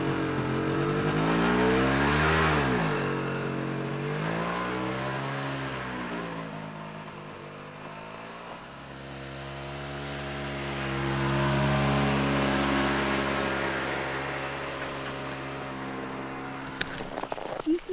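A snowmobile engine drones through rising and falling revs as the machine rides past, swelling loud near the start and again later before trailing off.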